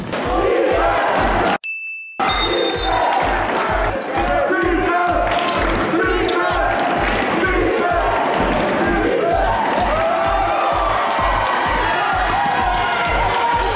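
A packed gym crowd roars and cheers at a high school basketball playoff game, loud and continuous, with a brief cut and a steady thumping beat underneath.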